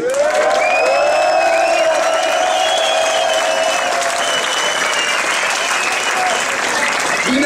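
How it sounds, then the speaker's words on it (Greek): An audience applauding at a live concert at the Kyttaro club in 2011, loud sustained clapping and whooping from a large crowd, continuous and close. "ο κόσμος χειροκροτάει το ίδιο πολύ"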